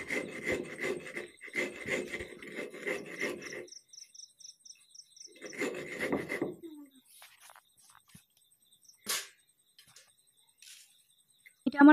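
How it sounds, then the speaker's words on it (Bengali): Sugar being ground into powder in an electric grinder for an eggless chocolate cake, heard as several loud, close whirring bursts of a few seconds each with short pauses between, then quieter handling noises. "চিনিটাকে গুঁড়ো করে নিচ্ছি"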